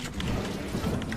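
Stormy rain and rumbling thunder in Fortnite, a dense, loud wash of rainfall with low rolling rumble, continuous and close with no talk.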